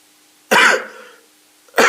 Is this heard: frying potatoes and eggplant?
no